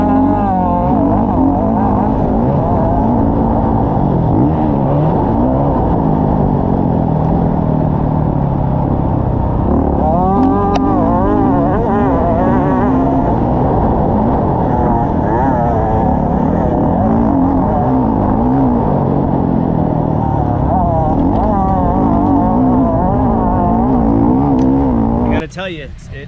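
A 2023 KTM 125SX two-stroke dirt bike with electronic fuel injection revs hard while being ridden, loud and continuous with rising and falling engine pitch as gears change, cutting off abruptly at the end.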